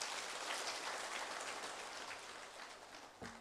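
An audience at a Vietnamese Buddhist sermon claps, giving a soft, dense patter of applause that holds steady for a few seconds and then thins out, fairly faint and distant.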